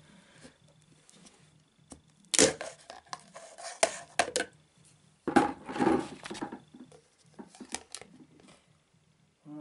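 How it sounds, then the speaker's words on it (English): A screwdriver levers the lid off a Dulux paint tin, giving several sharp metallic clicks and scrapes in bursts, with two louder pops as the lid works loose. Quieter handling and clinks fill the gaps between them. "They're never easy to open, but use a screwdriver down the side."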